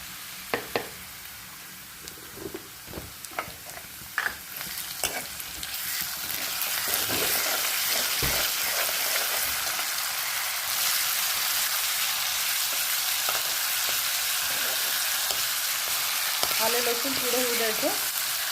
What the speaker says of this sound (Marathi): आता आपण आलं लसूण टाकायचं एक चमचा टाकते मी आलं लसूण